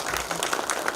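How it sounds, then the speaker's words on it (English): An audience applauds a guest speaker at an institute event, a dense, steady patter of many hands clapping at once, fairly loud and close. "Can we have a big round of applause for sir?"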